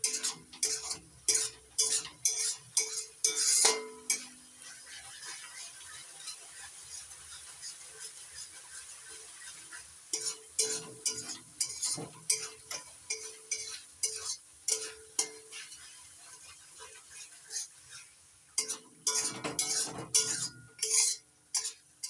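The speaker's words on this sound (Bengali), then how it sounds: "এবার মশলাটাকে ভালো করে কষিয়ে নেব যতক্ষণ না পর্যন্ত মশলা থেকে তেল ছেড়ে দিচ্ছে।" Spice masala with Kashmiri red chilli powder sautéed in oil for a paneer dish, a utensil scraping and stirring the pan in quick rhythmic strokes with faint sizzling, broken by short pauses before the stirring resumes.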